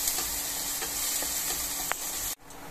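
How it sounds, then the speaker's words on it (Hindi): Onions and garam masala sauté in hot oil in a home kitchen, giving a steady, close, broadband sizzle with faint stirring scrapes that cuts off abruptly near the end. "ऑयल हल्का सा गर्म हो गया, अब मैं इसमें डाल दूंगी प्याज और अपने गरम मसालों को। इसको हम सॉटे कर लेंगे 2 मिनट के लिए।"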